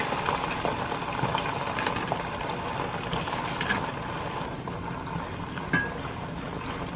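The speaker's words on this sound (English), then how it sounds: "You see it's starting to sizzle a little bit." Aloe vera sizzling in oil in a pan, a steady close hiss and bubbling that holds evenly throughout, with a brief sharper crackle near the end.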